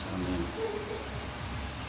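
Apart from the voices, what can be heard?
heavy rain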